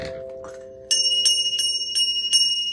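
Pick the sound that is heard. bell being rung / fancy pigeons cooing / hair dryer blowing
bell being rung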